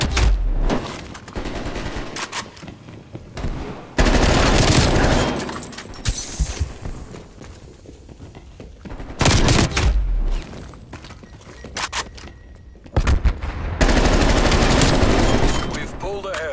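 Bursts of Groza assault rifle fire in a video game, loud automatic volleys that come in several separated clusters with quieter gaps, while a voice talks in between.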